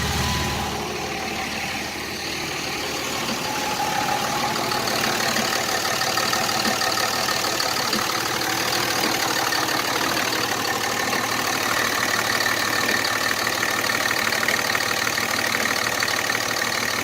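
A broken-down Dodge truck engine idles steadily for the whole stretch, with a rough, continuous rumble and a faint irregular clunking mixed into the noise, near and with no talking.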